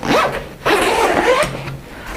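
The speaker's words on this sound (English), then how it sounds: "And we have another zip here, you can open from either side." A zipper on a 5.11 Rush 72 tactical backpack being pulled open in two quick, close, raspy runs, with a short pause between them.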